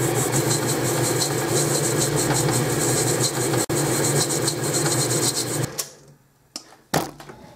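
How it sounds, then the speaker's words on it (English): A metal lathe turns down a trumpet receiver, a loud steady grinding whir with a brief dropout, then the machine cuts off abruptly, leaving a few scattered clunks and knocks in near silence. "I set up the lathe. I'm going to try this again."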